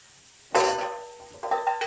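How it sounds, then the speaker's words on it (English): Sugar mixture for homemade marshmallows stirred in a pot, a sudden close scraping and clinking burst that fades, then a few more short stirring scrapes, with no talk. "I'm just giving it a quick stir at the moment, just to try and incorporate that sugar"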